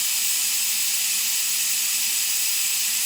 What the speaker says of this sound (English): There's a lot of steam in there.